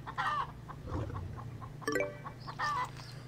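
Chicken clucking in the video game Predator Simulator, a few short bursts of bird calls spread across the clip over a steady low background hum.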